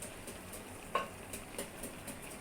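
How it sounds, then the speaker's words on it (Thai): A Thai field rat om curry boiling in a pot gives a faint, steady bubbling with soft scattered pops and crackles, quiet and without talk. "นี่กำลังเดือดบุกๆเลย"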